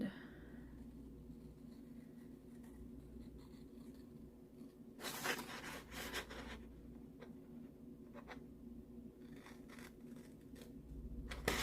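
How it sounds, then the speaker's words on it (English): Scissors snipping through paper scraps for a fall junk journal, a few quiet crisp cuts over a low steady background hum, with faint scratching sounds of paper handling. "let's cut that one out"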